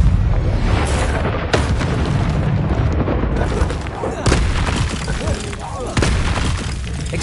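Confringo explosive spell blasts in Hogwarts Legacy, several loud booming bursts in quick succession over dense combat noise, close and forceful, with a voice shouting spell names.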